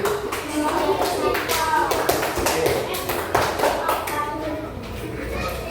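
Class of schoolchildren clapping their hands together in a classroom, a steady run of sharp claps with some thumps and children's voices mixed in.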